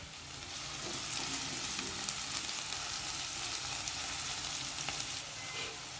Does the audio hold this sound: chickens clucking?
no